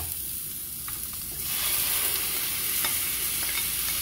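Tomato drops into a hot pan and fries, the sizzle jumping louder after a quieter start, with stirring scrapes and crackles popping through the steady hiss, close and without talk.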